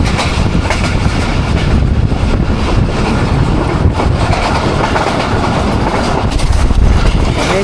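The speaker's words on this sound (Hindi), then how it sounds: "मंक्याला से थ्रू पास हो रही है हमारी ट्रेन" The Awam Express, train 14 Down, passes through Mankiala station between Rawalpindi and Lahore, recorded from on board: a loud, steady rumble of wheels and rattling carriages with wind buffeting throughout, no talking.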